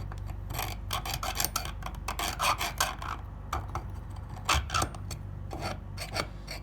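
A scriber scratches a line into metal against a block, a series of rasping strokes repeated several times, close and crisp with no talking.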